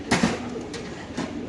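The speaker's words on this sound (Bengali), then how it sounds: "এখানে আছে আরেক পেয়ার কবুতর।" Pigeons at a large pigeon farm coo nearby, two or three soft, throaty calls in a short burst, with one more call following about a second later.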